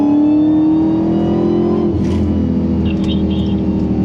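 A Dodge Charger Hellcat revs hard and accelerates, its loud supercharger whine rising steadily over the engine roar before easing off. Voices talk throughout, up close inside the car.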